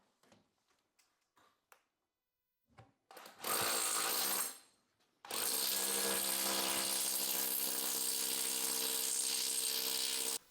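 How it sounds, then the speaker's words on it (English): A power drill bores through a UK house wall into a cavity, a short loud burst followed after a pause by a longer sustained run at steady high speed, preceded by a few light taps and handling knocks. "my plan here is to drill through there, and hopefully we're getting that void"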